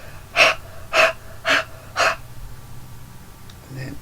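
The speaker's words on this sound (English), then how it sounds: "That's me breathing on the stamp set." Heavy breathing onto a rubber stamp to keep the ink wet for card making: four strong, evenly spaced huffs close to the microphone, followed by quieter handling sounds.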